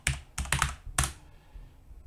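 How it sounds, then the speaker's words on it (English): Typing on a computer keyboard while entering text into a spreadsheet: a close, crisp cluster of several quick key clicks followed by a quieter pause, with no talking. "And we'll type category in there."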